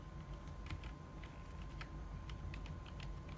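Quiet keystrokes on a computer keyboard while entering text in a CorelDRAW flyer layout, a sparse run of faint, close clicks over a low steady hum.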